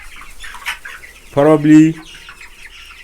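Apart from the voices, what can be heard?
chickens clucking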